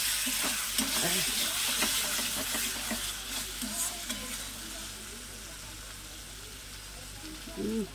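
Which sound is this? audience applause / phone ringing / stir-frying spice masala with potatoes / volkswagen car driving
stir-frying spice masala with potatoes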